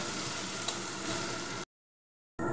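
Chopped onions fry in hot oil and get stirred, a steady close sizzle with spoon scraping that cuts off abruptly into silence before briefly returning.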